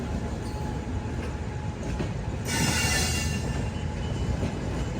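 The Maveli Express passing the Vivek Express on an Indian railway line, a loud, continuous rumble of rolling wagons heard nearby, with a bright metallic wheel squeal rising midway and lingering.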